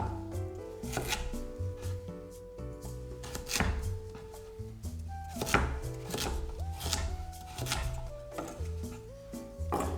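Rapid, steady knife chops dicing carrots on a cutting board, crisp repeated taps over soft background music.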